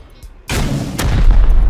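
A launcher weapon firing in a video game, a single loud boom-like blast that opens abruptly and rumbles on with heavy low-end, close and alone.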